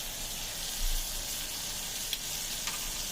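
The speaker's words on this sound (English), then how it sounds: "Watch that thing sizzle." Steady, loud hissing sizzle of a peppercorn steak frying in a pan after being flipped, with a couple of faint pops and clicks.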